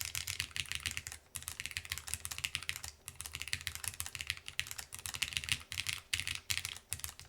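Low-profile Matrix mechanical keyboard being typed on, rapid clattery keystrokes in irregular bursts with short pauses, close and fairly thin in tone.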